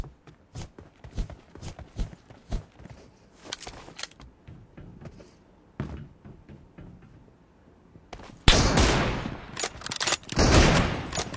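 Bursts of gunfire in the mobile battle game BGMI: scattered single shots and footstep-like thuds, then a loud, dense burst of rapid fire toward the end.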